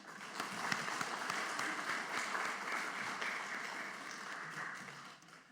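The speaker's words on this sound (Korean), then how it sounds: "함께 축복하고 격려하는 박수 하도록 합니다" A church congregation claps for the choir and worship team at a Sunday service, a fairly distant, sustained round of applause that fades toward the end.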